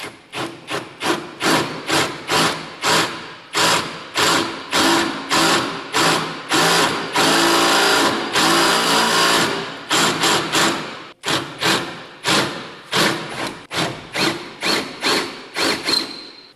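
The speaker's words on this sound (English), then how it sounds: "now we're going to drill our door pin out here." A power drill runs in repeated loud bursts, each whine lasting under a second, with a longer continuous run midway and brief pauses between, drilling out a door hinge pin on a Ford truck.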